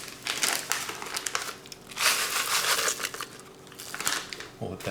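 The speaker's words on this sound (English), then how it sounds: "add in the envelope of the Lipton onion soup" Envelope of Lipton onion soup mix emptied into an Instant Pot for beef stroganoff: close, papery crinkling and rustling in uneven bursts, with brief pauses between shakes.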